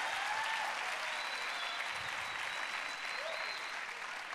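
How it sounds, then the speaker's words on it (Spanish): A church audience applauding, a steady wash of distant clapping filling the room evenly, with faint voices underneath. "Párese, aplaude, haga cualquier cosa."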